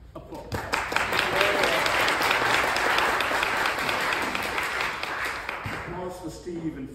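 Sustained audience applause at a program event, a dense wash of clapping that holds steady for several seconds and then tapers off as a voice begins at the end.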